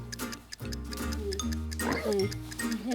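A person on a Korean TV variety show imitates a pig with their voice, making a run of voiced oinking grunts and snorts in a rhythmic, close, fairly loud string.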